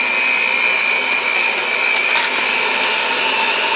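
An electric mixer beats muffin batter with eggs and vanilla for chocolate chip muffins, a loud, steady motor whine with a constant high pitch running unbroken from start to finish, close up and with no voices.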